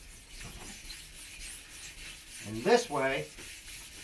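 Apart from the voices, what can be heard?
scuffing a painted part before buffing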